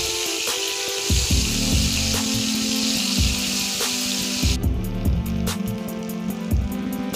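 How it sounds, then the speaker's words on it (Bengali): Eggplant pieces fry in hot oil for a small-fish curry, giving a steady, loud sizzle with crackling bursts and occasional scraping and clattering of a utensil, close by and without talking. "বেগুনগুলো ছেড়ে দিলাম। বেশ ভালো করে ভেজে নিতে হবে।"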